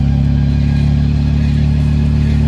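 Mini 1275 LS fitted with a straight-cut gearbox, its engine droning steadily up close with a constant loud hum and gear whine, no voices present.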